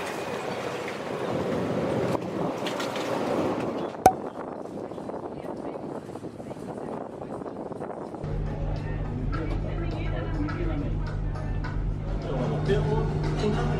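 A tour boat cruises Rotterdam harbour on a 90-minute trip, its engine settling into a low, steady drone partway through, under background chatter and wind noise.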